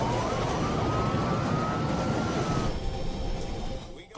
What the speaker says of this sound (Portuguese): ao tocar o solo, o copiloto Fagan fica com o manche.